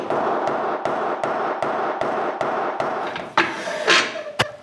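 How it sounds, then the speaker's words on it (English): Lathe spur center being driven into the end of a wood log: about eleven sharp, evenly spaced hammer blows, close and loud, ending with a few heavier knocks. "drive the spur into the wood."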